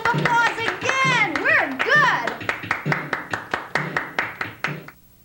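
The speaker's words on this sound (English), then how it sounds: "Let's give ourselves a round of applause again." Children applaud together after a singing lesson on the notes C, D and E, a run of loud, evenly spaced claps that follows a burst of cheering and sung voices, then stops abruptly.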